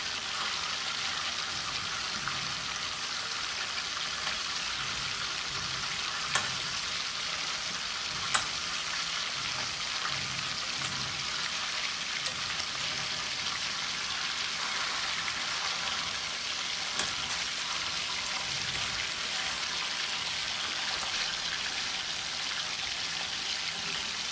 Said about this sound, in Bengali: মাছটা এখন ভাজা হচ্ছে